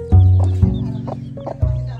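Hens and chicks cluck on a small farm in close, loud, repeated calls with a few short bursts over one another, and nobody speaks.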